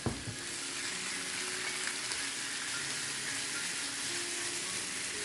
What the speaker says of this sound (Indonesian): Masukkan daging lalu kita tumis sampai berubah warna.